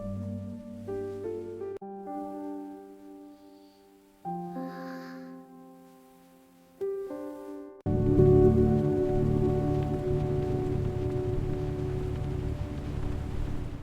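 Rain on a rainy day settles into a steady, dense hiss of falling drops that starts partway through, after a stretch of soft, sustained tones and continues evenly to the end.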